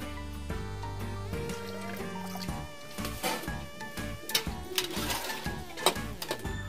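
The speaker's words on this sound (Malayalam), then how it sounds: "അപ്പോൾ തിളച്ച വെള്ളത്തിലേക്ക് കുതിർത്ത് വെച്ച അരി ഇടയെന്ന്" Soaked rice goes into boiling water for a mandi dish, with close liquid splashes, drips and pot clatter over a steady bubbling, no talking.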